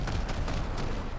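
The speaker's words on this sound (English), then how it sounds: "We're going to fire with our cannons." Ship cannons firing in a pirate naval combat video game, heard as a dense, continuous rumble of booming blasts with several sharper bursts standing out over about a second.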